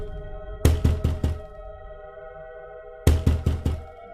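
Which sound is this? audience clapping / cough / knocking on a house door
knocking on a house door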